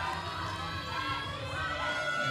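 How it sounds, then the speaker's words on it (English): Spectators at the Russia versus France compound men's team archery bronze final in Ankara, Turkey, 2016, cheer and shout in a steady, dense roar of crowd noise that fills the hall without letting up. "the cheering sections getting warmed up right now"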